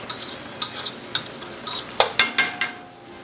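Lean ground beef and onions being stirred in a hot pan, a utensil scraping in quick bursts about twice a second over a soft sizzle, close and clear, with no talking.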